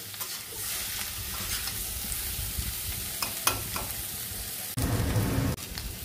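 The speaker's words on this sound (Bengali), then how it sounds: "প্রত্যেকটা এঁচড় দেখো কত সুন্দর ভাজা হয়েছে" Young jackfruit pieces fry in hot oil in a pan with a steady, close sizzle, while a spatula stirs and scrapes through them in occasional knocks and a brief louder burst near the end.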